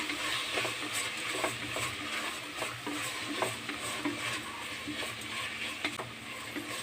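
Tomatoes sautéing with salt in a pan for dal curry, a faint steady sizzle under repeated rhythmic scrapes of a spatula stirring the mixture.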